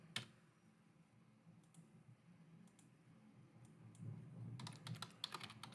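Keystrokes clatter on a computer keyboard, starting as sparse, quiet clicks and then speeding into a quick burst of typing near the end, close and alone in a quiet room.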